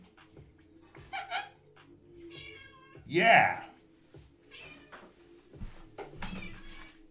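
A house cat meows several times, one loud drawn-out call in the middle, while people talk casually in the room around it.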